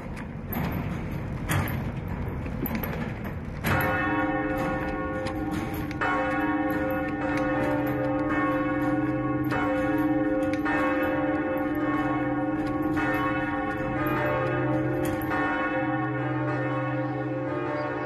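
Bronze bells of Notre Dame de Paris cathedral, cast in 1856 from cannon metal, ring loudly in an overlapping peal, with repeated strikes and long humming resonance that carries throughout.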